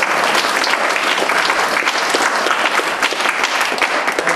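Church congregation applauding, a dense, continuous burst of many hands clapping, loud and full throughout with no talk over it.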